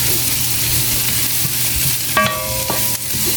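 Ginger sautéing in a pan for a home-cooked string bean and shrimp dish: a steady close sizzle with stirring, and a sharp clink of a utensil against the pan partway through.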